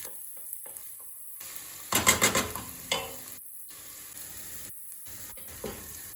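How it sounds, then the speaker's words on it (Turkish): Tomato paste being stirred in a pot while making a potato and herb stew: a few short bursts of sizzling and spoon scraping around the middle, close and moderately loud, with quiet pauses between. "2 dakika salçayı da kavuralım."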